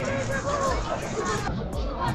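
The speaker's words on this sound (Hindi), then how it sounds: "यहाँ का सबसे फेमस मार्केट है मेल रोड और बहुत ज़्यादा भीड़ होती है यहाँ पे" Nighttime crowd on the busy Mall Road market in Darjeeling: a steady hubbub of many voices and footsteps close around, with someone talking over the babble.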